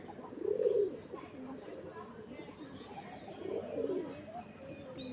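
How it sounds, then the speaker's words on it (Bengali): Pigeons cooing at a pigeon farm, two distinct low throaty coos a few seconds apart, close and moderately loud over quiet background murmur. "কবুতরের বাক শোনেন।"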